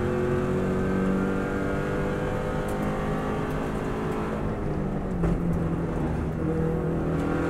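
A Subaru WRX STI rally car driven flat out on the Isle of Man road course, its engine roaring loud and close with rising and falling revs and gear changes, plus wind and road rumble.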